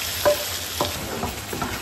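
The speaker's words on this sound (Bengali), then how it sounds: "এখন আমি আমার শাকের মধ্যে দিয়ে দিব তরকা।" A hot tempering poured onto chopped bottle gourd greens sizzles sharply and close, with a few quick spoon scrapes and clinks over a continuous hiss.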